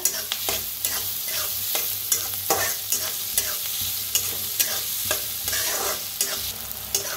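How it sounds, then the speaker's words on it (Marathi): Onion fries in oil with cumin, asafoetida and mustard seeds, giving a continuous close sizzle. A spoon stirs the pan in a rhythm of repeated scraping knocks, and no one speaks. "जिरं, थोडंसं हिंग, कांदा छान असा भाजून घ्यायचा।"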